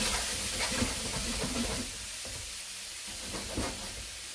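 Onions sweat in a pan for a vegan chilli, giving a steady soft sizzle and hiss with faint stirring scrapes, the sizzle easing slightly partway through.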